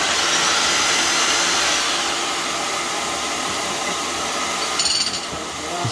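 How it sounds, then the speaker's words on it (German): A Bosch GBH 5-40 DCE hammer drill with a 40 mm bit widens holes through a wall, giving a loud, continuous roaring grind that holds steady for about six seconds with a brief rattling clatter near the end; no one speaks. "Ich bohre die Löcher auf mit einem 40 mm Bohrer"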